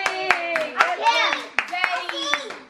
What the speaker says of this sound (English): Everybody clap for Jaylani.